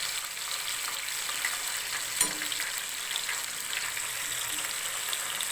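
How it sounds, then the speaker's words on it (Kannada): Onion, tomato and masala fry in oil with ginger-garlic paste for chicken biryani, giving a soft, steady sizzle. A single sharp stirring clink sounds partway through. "ಎಣ್ಣೆಯಲ್ಲಿ ಈರುಳ್ಳಿ, ಟೊಮೊಟೊ, ಮಸಾಲೆ ಎಲ್ಲ ಫ್ರೈ ಮಾಡ್ಕೋತಾ ಇದ್ದೀವಿ"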